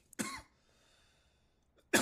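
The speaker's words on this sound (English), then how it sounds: "there's gonna be so much editing of me coughing." A person coughs close to the microphone, with two short, harsh coughs separated by a quiet pause of over a second.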